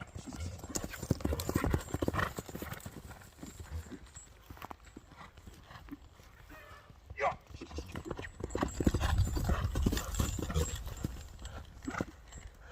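A racehorse's hooves clip-clop in quick repeating beats at a distance, mixed with outdoor noise and people talking over the sound throughout.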